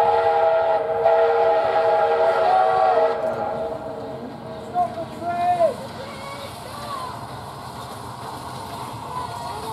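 A heritage train stands at Oakwood Station on the Keighley and Worth Valley Railway, with a steady mechanical hum, sustained tonal whistle-like notes and a few brief gliding squeals midway, under a faint voice.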